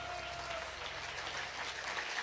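Dense applause from a bhajan audience, steady and close throughout, with no other sound standing out.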